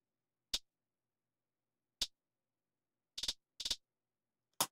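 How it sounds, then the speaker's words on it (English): A hi-hat fill in a drill beat is heard as short crisp ticks spaced apart, a single hit, another single hit, then two quick rolled bursts and a final hit, fairly quiet over silence, with no other instruments. "there is a hi-hat fill that sounds like this"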